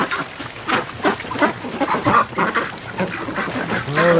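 A flock of Pekin breeding ducks quacks and honks in a steady busy chorus near a garden hose in -10°C winter weather, close and loud with no talking.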